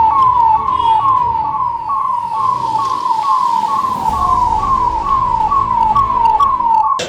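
A fire brigade siren wails in a fast, regular rising-and-falling cycle, loud and close and repeating steadily, during a disaster mock drill in Faridabad.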